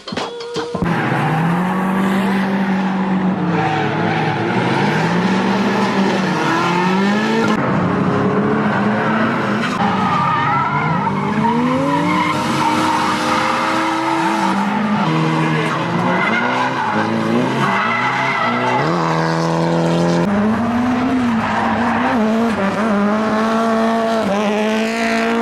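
Nissan 240SX drift car sliding with sustained tire squeal and screeching, engine note rising and falling through repeated slides, loud and continuous with no talk.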